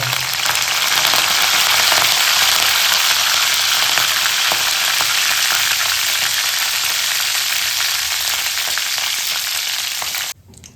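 Cumin seeds and curry leaves fry in hot oil with a steady, loud, dense sizzle that holds for about ten seconds, then cuts off abruptly near the end.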